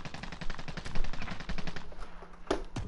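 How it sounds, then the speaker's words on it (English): Rapid gunfire in a video game, a dense automatic burst of sharp shots for about two seconds, then a pause and one more loud crack, close and without talk. "There's shooting"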